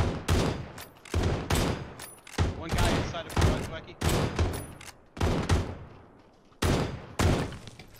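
Win94 lever-action rifle shots in the PUBG battle royale game, a series of sharp, loud cracks spaced roughly a second apart with echoing decays and a short gap before the last few shots.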